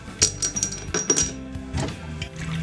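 Three ice cubes dropped one after another into a glass whiskey tumbler, sharp bright clinks and rattles up close, followed by softer settling knocks, with no talk.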